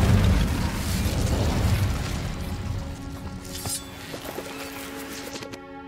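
An Incendio fire spell in Hogwarts Legacy erupts with a heavy burst and rushing flame, then fades into a crackling tail as a musical score rises underneath.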